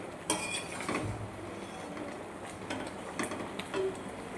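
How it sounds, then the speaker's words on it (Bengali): Mango pickle being stirred in a pot after ground spices go in, with faint scraping and metallic clinks of a spoon against the vessel and a few sharper knocks. "দিয়ে আবারও ভালোভাবে নাড়াচাড়া করে নেব।"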